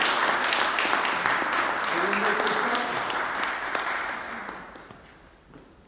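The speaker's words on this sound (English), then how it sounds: "first give her a warm round of applause" An audience at an open mic night in a gallery gives a warm round of applause. The clapping is dense and carries under a voice, then fades away toward the end.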